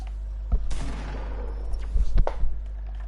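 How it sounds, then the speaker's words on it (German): A few sharp gunshots in Fortnite crack out at a distance, a single shot first and then a quick cluster of reports, over a low steady hum. "Ich sehe hier dauernd Schüsse."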